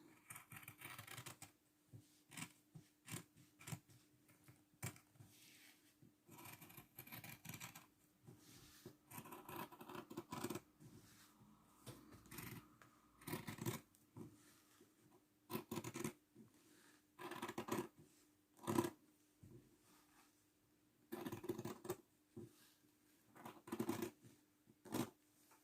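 Scissors cut through paper along a drawn line for a handmade mini album, a series of quiet, close snips and rustles in irregular bursts with soft pauses between them.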